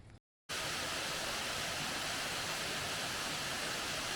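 Steady rushing roar of a waterfall at Galvin Gorge along the Gibb River Road in the Kimberley, broadband and continuous after a brief dropout at the start, fairly soft with no voices.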